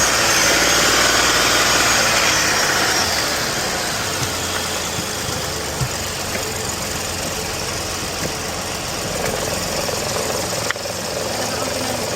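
A car engine idles steadily with the hood open, a light ticking mixed into the continuous close mechanical hum, slightly louder at the start and even for the rest.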